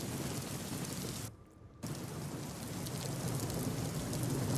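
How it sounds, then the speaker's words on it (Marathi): Steady rain falls over Mumbai under cloudy skies, a dense even hiss that drops out briefly for about half a second before resuming at the same level. "संततधार सुद्धा पावसाच्या अनेक ठिकाणी सुरू आहे"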